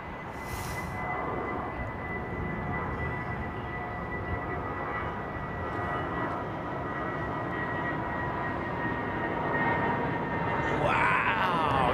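Thai Airways airliner at London Heathrow Airport, a steady, fairly distant engine roar and rumble that holds throughout, building slightly toward the end, with no talk.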